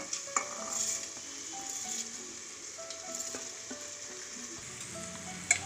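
Washed rice tossed with masala in a pan gives a soft, low sizzle and light stirring scrapes, faint beneath quiet background music.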